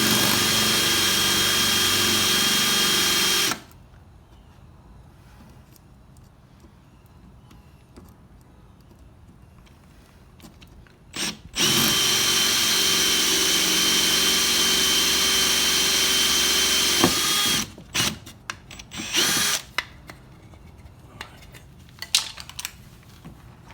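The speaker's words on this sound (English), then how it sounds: "then I can screw this down to hold it still while I'm drilling it" A loud, steady power drill whines for a few seconds while drilling a drain plug hole in a Pelican Bass Raider 10E boat, stops, then runs again in a longer sustained burst, followed by scattered clicks and handling noises.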